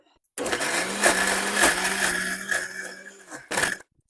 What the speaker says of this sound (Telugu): పాలకూర పచ్చడి గ్రైండింగ్ చేసుకున్నాం